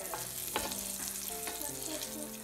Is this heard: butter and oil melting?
yes